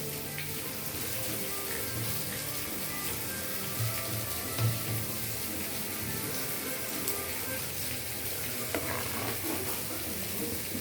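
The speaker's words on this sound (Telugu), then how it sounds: "మరి ఎక్కువసేపు కలపకూడదండి, ఒక్కసారి కలుపుతున్నా." Fish curry with tamarind juice simmers and sizzles steadily in a pan while it is stirred briefly, with a continuous close bubbling hiss throughout.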